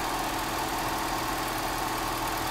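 A Mercedes W123 230E engine holds a steady, dense idle hum during idle mixture adjustment, close and constant without any clear change in pitch.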